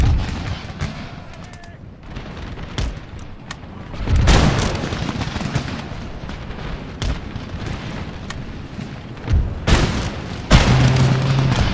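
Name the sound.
musket gunfire from fusiliers in video game Empire: Total War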